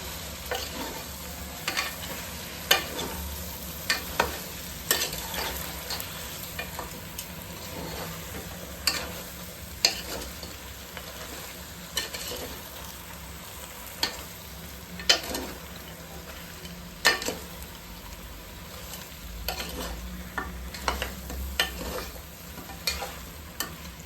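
Goat head meat with salt and chili being stirred in a pan, repeated sharp scraping strokes at an uneven rhythm over a soft sizzle, close and clear with no speech.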